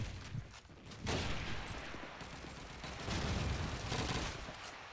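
Gunfire in Call of Duty 2 during a competitive match on the Burgundy map comes in several loud, sharp bursts of rapid shots separated by short quieter gaps, close and dense.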